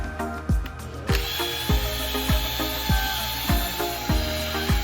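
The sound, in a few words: power drill drilling through fire hose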